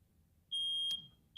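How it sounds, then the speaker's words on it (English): A smoke alarm, set off by smoke during a fire sprinkler demonstration, gives one short, piercing high-pitched beep that stands clearly over faint background noise. "At 26 seconds, smoke activates the smoke alarm."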